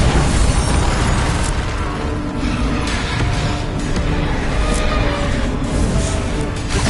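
Bombarda blasting spell exploding in a Hogwarts video game battle, a loud continuous wall of booming and crackling blast noise with mechanical clatter mixed in, sustained and close.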